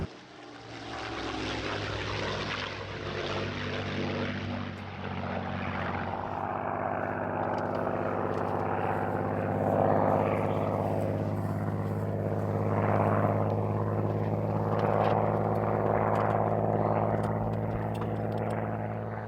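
A Messerschmitt Bf 109 / Hispano Buchón fighter plane, stored in a barn since 1968, runs its piston engine in a continuous loud drone with a strong low hum and shifting, rising surges as it passes.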